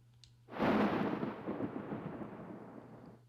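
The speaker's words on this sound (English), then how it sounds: "The second thunderclap sounded violent enough to rip this space open." A thunderclap in the Honkai Impact video game bursts in suddenly, loud and close, then rolls and rumbles as it slowly fades, with no voices over it.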